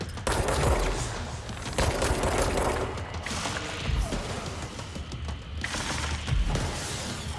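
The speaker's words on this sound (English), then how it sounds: "I felt gunshots." Gunfire crackles in the video game Control, a dense, sustained barrage of rapid shots with heavier impacts, loud and continuous throughout.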